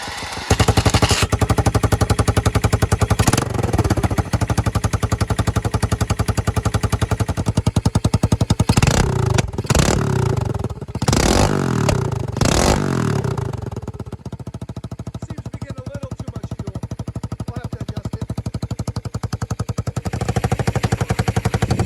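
A Yamaha 225DX Tri-Moto three-wheeler's small engine starts with a loud rapid popping clatter, then settles into a steady, slightly ragged idle, close and continuous with no talk over it.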